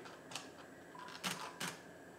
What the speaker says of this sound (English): without moving the tripod, I can use the shutter release to